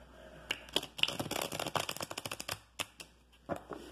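Rapid riffling of tarot cards being shuffled, a burst of crisp flutters followed by a few separate snaps and taps, close and fairly quiet.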